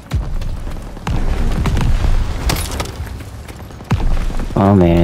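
A grenade blast in Call of Duty WW2 during a campaign firefight, heavy booms and rumbling explosions amid battle noise with voices talking over the chaos.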